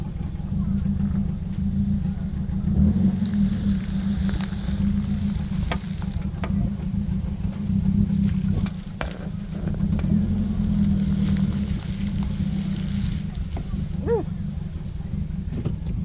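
A 2010 Nissan Cube on a test drive, heard from inside as a steady, loud low rumble of engine and road noise that runs without a break, with a few faint knocks and clicks along the way.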